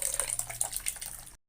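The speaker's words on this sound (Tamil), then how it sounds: "புளியை தண்ணி ஊற்றி நல்லா கரைச்சி ஊற்றிக்கலாம்" Tamarind water is poured into a pot of fish curry, a brief splashing, trickling pour of liquid heard close up for about a second before cutting off abruptly.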